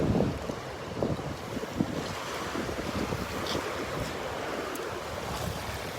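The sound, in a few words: ocean waves washing up on beach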